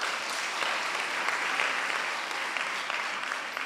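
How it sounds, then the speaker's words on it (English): Steady audience applause fills a hall at a conference on women and children, a dense, even wash of many hands clapping at moderate distance with no talk over it. "we must applaud ourselves"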